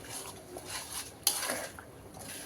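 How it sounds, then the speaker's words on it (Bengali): Mango pickle, about three kilograms, being stirred and mixed in a metal pot, with a spoon scraping and clinking against the sides in a steady, close run of clatters and one sharper knock midway; no talking. "এখন আবার একটু নেড়ে চেড়ে মিক্সড করে দিচ্ছি"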